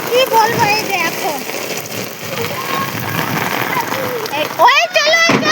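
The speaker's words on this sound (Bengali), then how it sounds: "বন্ধুরা সত্যি খুব বৃষ্টি হচ্ছে" Heavy rain falls steadily in a dense, hissing wash throughout, with a voice talking over it and another voice rising near the end.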